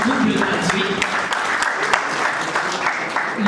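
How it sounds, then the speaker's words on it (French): Loud, dense applause for graduates at a CHRM professional certification ceremony in Togo, a crowd clapping steadily with a few sharper claps standing out and a voice faintly heard under it. "applaudissez-les encore une fois parce qu'ils sont double gradués"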